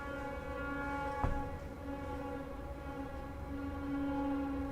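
A train horn sounds as a sustained, multi-tone blare with steady rumbling beneath it, one brief sharp knock partway through, and the horn swelling louder again near the end, with no talking.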